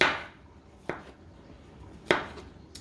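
Mushrooms being cut smaller with a knife on a board: three sharp chops, the first at the very start, then two more spaced about a second apart, each a crisp thud fading quickly into quiet.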